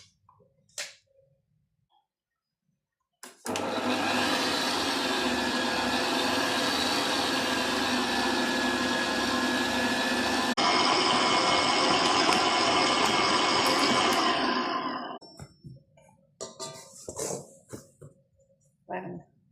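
A robot mixer churns murukku dough for Diwali, a loud steady motor whir that starts abruptly, runs for about twelve seconds, then winds down, with faint clicks and taps before and after.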